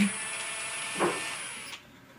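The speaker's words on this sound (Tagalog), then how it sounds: "Kilap brushless impact driver 18 volts." A KEELAT 18V brushless impact driver spins up with a thin high motor whine, a brief louder surge about a second in, then cuts off and leaves quiet room tone.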